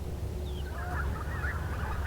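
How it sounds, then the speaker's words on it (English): Geese honk at a distance over a low rumbling background, several short calls blending together. "I could hear geese when I stopped to photograph this wild asparagus."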